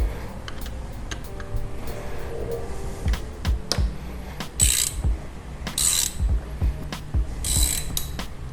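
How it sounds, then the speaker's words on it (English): A ratchet clicks in bursts while tightening a motorcycle frame slider bolt, with the sharp pawl ticks coming near and clear amid occasional metallic handling noises, and no speech. "we're going to need to hold one end while obviously tightening down the other end"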